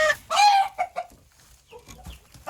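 Hens let out on a poultry breeding farm cluck in a few short, close bursts, loudest at the start, with softer calls trailing after brief pauses.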